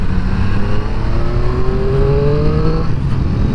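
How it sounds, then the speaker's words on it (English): Triumph Street Triple RS motorcycle exhaust accelerating on a country road, loud and close, with a rising engine note that climbs steadily, then drops and picks up again after a gear change, over steady wind rush. "Love the sound of that exhaust as well."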